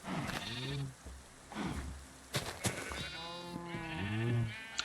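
Several sheep in Minecraft bleat in a series of separate wavering calls, fairly close, alone without talk.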